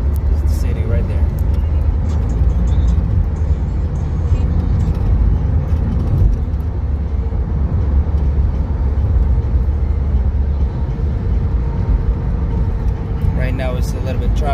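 Rush hour road traffic in Charleston near the Cooper River makes a loud, constant rumble of passing cars close by, with a voice talking over it.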